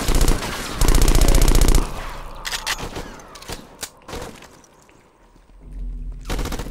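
Shotgun blasts in a video game, a loud burst of heavy rapid fire at the start followed by scattered sharp shots and impacts, then another loud blast near the end.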